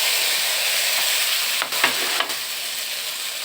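Tomatoes fry in a pan with a steady, close hiss and sizzle, briefly broken by a few soft stirring scrapes midway.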